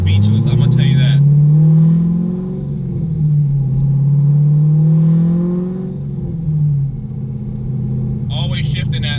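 A C5 Corvette Z06 with a 600 hp engine revs hard on the road, its deep exhaust note rising and dropping through several gear changes. The engine stays loud and close throughout.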